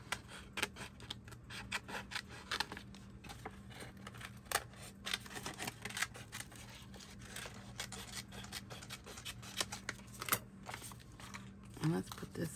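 Scissors cutting out a small red rub-on decoration for a Christmas notebook, quiet repeated snips and papery rustling close by, with brief crinkling near the end.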